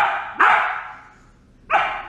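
A dog gives two loud, close barks about a second apart, each one sharp and ringing out before fading.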